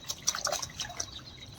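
Water dripping and trickling down from a damaged, leaking roof, with scattered irregular drops and small splashes at close range, fairly quiet and alone with no voices.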